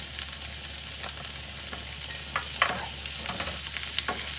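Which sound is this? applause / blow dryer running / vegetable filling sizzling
vegetable filling sizzling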